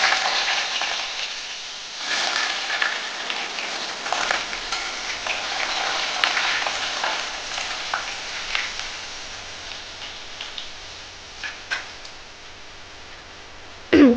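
Sliced potatoes frying in oil with five-spice seeds, dried chillies and a bay leaf, giving a continuous moderate sizzle close by, with occasional crackles and a utensil clink at the end.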